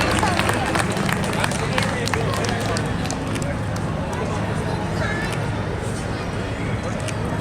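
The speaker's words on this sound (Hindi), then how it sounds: "एक जोरदार ताली होना चाहिए" Audience applause at a Chhath Puja festival gathering, a steady wash of crowd clapping with a hum of chatter underneath, lasting the whole stretch at even loudness.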